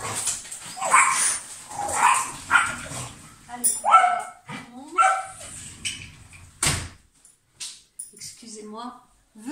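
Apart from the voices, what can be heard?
dogs barking and whimpering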